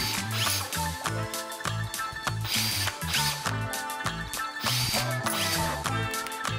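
A ratchet unscrews screws from a wall fitting while a custom shelf is installed, giving rapid close clicking bursts in short repeated strokes with brief pauses between them, with no speech.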